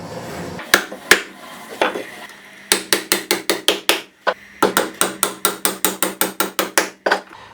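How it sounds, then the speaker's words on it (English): Nails are hammered into wood while building a simple possum trap, a few scattered knocks followed by two fast, even bursts of sharp, ringing blows separated by a short pause. "I'm just going to thump a couple of nails in here."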